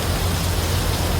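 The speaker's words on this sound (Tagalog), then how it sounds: "At inaabot na nga ng malakas na ulan." Heavy rain pours during a 21 km running race, a loud, dense, steady roar of downpour heard up close and alone, with no voices.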